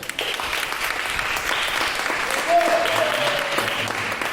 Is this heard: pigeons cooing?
no